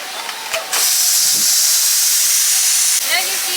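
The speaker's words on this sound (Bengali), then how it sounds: "এবার প্রেসার কুকারটা খুলে দেখবো" Pressure cooker lid opened after cooking duck curry, releasing a sudden loud, sustained hiss of escaping steam that runs for a couple of seconds before tapering off, with a voice heard faintly around it.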